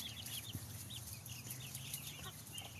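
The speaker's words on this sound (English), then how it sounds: "that's one of our roosters." A rooster clucks and calls faintly at a distance over a steady outdoor background, with a few short calls and no speech.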